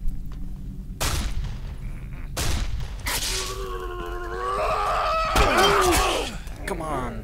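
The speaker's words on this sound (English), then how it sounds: "That one have a shotgun." Shotgun blasts in the Condemned: Criminal Origins game, several loud booming shots spaced a second or so apart, followed by a voice shouting and grunting close by.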